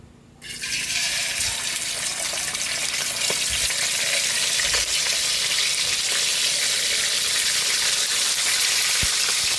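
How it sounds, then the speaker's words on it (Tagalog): Fish fries in hot oil in a home kitchen, a steady, loud, close sizzle that bursts in after a brief quiet start and carries on unbroken with scattered pops. "Magpiprito na tayo ng ating isda"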